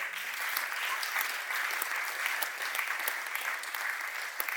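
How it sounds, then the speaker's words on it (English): Sustained applause from a conference audience at a mentorship, entrepreneurship and networking event: a dense, steady wash of many hands clapping at even loudness for the whole stretch, with no speech on top. "Please, a round of applause again."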